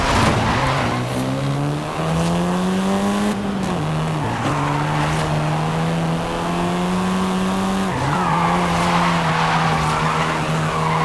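A seventh-generation Volkswagen Golf R driving in Forza Horizon 5, a loud sustained engine drone with pitch dips at gear shifts, tire skids and squeal mixed in, no talk.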